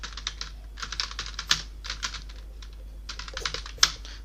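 Rapid bursts of clicking keys on a computer keyboard while entering data into an Excel billing sheet, coming in quick clustered runs with short pauses between them, close and clear.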